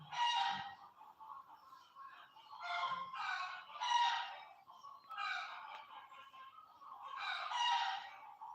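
Several roosters crow in repeated bursts, some overlapping, moderately distant and alone without talk.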